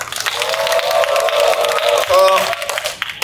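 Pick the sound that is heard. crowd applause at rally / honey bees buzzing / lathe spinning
crowd applause at rally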